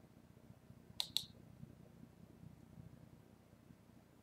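A computer mouse clicks twice in quick succession, crisp and close, against a quiet room hum while a drive setup wizard is stepped through on a Dell XPS 8900 desktop.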